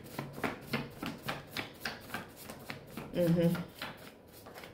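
Stiff tarot cards being shuffled by hand, a run of quick, rhythmic riffling and sliding strokes close to the microphone, with a brief murmured voice in the middle.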